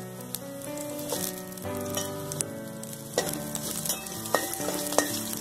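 Green chillies and browned fenugreek seeds sizzle and crackle in hot oil while being stirred, a busy close frying sound with sharp pops and scraping throughout.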